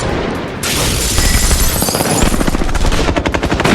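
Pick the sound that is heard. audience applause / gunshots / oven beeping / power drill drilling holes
gunshots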